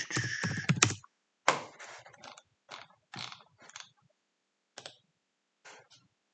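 Computer mouse and keyboard clicks come close and crisp in irregular clusters, a dense run of taps at the start, then scattered short bursts separated by silence.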